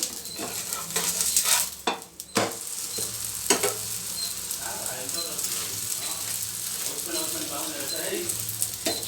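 Oil sizzling on toor dal obbattu cooking on a pan, a soft steady crackle with a few sharp clinks of a utensil early on.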